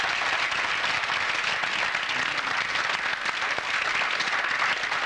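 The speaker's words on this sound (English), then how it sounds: "Give him a round of applause, ladies and gentlemen." Studio audience on a television cooking show applauds steadily, a dense continuous wash of clapping held at an even level from start to finish, with no voices over it.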